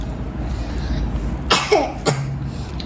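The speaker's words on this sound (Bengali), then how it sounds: "পুরো কাশি উঠে গেছে" A small child coughs in a few close, sharp bursts within a couple of seconds, over a low room background.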